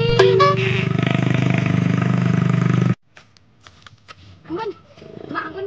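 A motorcycle engine idles with a loud steady rumble for about three seconds, then cuts off, leaving quiet background with scattered voices talking.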